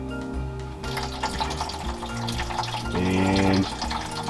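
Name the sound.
coolant draining from a Fox Body Mustang radiator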